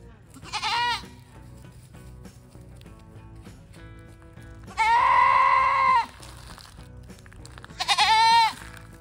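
A goat bleats three times with long, loud, wavering cries separated by quiet pauses, and faint background noise runs between the calls.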